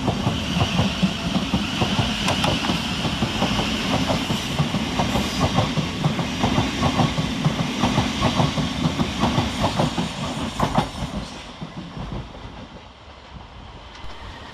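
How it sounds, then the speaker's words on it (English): South Western Railway electric trains 707019 and 707021 pull out of Clapham Junction on a Windsor and Eton Riverside to London Waterloo service, a loud steady rumble with clickety-clack wheel beats that fades as they leave. "707019 and 707021 depart, with the 1909 South Western Railway service from Windsor and Eton Riverside to London Waterloo"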